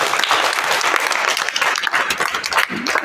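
Steady, dense applause from an audience during a visit to a vocational ITI training institute, continuous and fairly loud for a few seconds with no talking over it.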